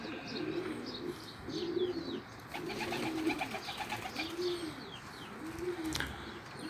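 Pigeons coo in a slow repeating rhythm, five or six soft rounded calls close by in a loft, with faint chirps and light background noise.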